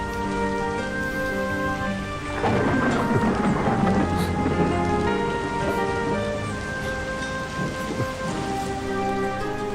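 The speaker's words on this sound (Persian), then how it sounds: "چه بارونی گرفت" Rain pours down in a steady, close hiss beneath a drama's dubbed soundtrack, swelling louder for a few seconds midway and then easing back to a constant downpour. No one speaks.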